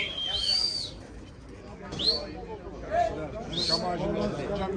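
Tumbler pigeons at a pigeon festival in an arena, with several short chirps and coo-like calls rising over a murmur of crowd noise and talk.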